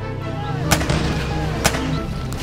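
Musket volley in a Battle of Ball's Bluff reenactment, two or three sharp loud cracks over a busy background with shouting voices.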